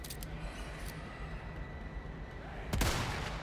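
A headshot in the video game Resident Evil 4: one sharp, loud gunshot near the end, over a constant low rumble of game ambience.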